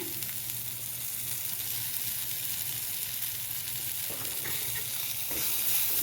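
Shredded cabbage being sautéed with salt in a pan, a soft continuous sizzle with faint stirring scrapes and a low hum beneath, fairly quiet and close, a brief clink near the end and no voices.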